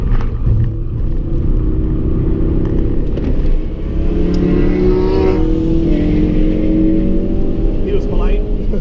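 Audi RS3 engine pulling hard under acceleration on the Nürburgring GP circuit, a loud, steady drone with rising engine tones sustained throughout, with someone talking over it.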